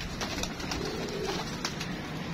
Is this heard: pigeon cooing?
yes